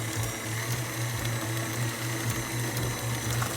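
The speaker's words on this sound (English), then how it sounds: "Start back your mixer." A stand mixer whirs steadily, beating cream cheese for a mango cheesecake, with a continuous mechanical hum and faint rhythmic ticking throughout.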